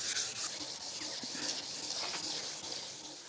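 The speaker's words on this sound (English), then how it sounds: "let me rub down this cone and the fenders" Hand sanding of a car's curved cone and fenders during bodywork before painting: a steady, close, continuous abrasive rubbing hiss with slight strokes, alone without talk.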